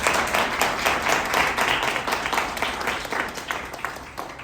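An audience at a talk on crypto assets, AI and ethics breaks into sustained, dense applause that stays strong and then slowly tapers, with no voices over it.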